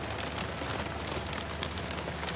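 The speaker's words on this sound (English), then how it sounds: "But seriously, hail in the desert." Hail falls steadily in a desert, a dense, continuous patter of small hard impacts on surfaces, fairly close and unbroken, with no voices.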